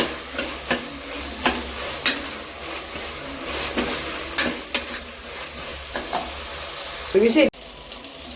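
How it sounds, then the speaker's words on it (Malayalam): Ginger paste and curry leaves are sautéed in a pan, with a low sizzle under a series of sharp spatula scrapes and taps at an uneven rhythm, ending in a louder clatter before the sound cuts off. "അത് നമുക്ക് കറിവേപ്പിലയും കൂടി ഇട്ട് കൊടുത്തിട്ടുണ്ട് നല്ലപോലെ തന്നെ വഴറ്റിയെടുക്കണം"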